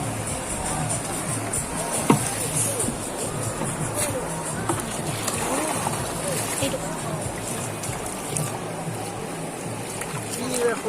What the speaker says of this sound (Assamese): পানীৰ চাউণ্ড শুনা পাইছেনে